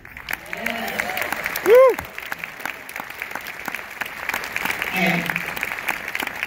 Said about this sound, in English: we've got to give a big round of applause for Noah Juke